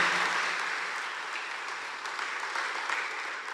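Church congregation applauding during a sermon, a steady wash of many hands clapping at once, moderately loud and slowly fading over a few seconds.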